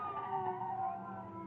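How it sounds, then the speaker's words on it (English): A police car siren sounds outside as the car arrives and stops, in an audio drama scene. Steady tonal wails hold at an even, moderate level for the whole moment, with no voices. "As you hear the police car stop outside"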